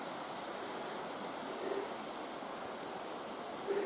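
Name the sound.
River Barle flowing in the valley below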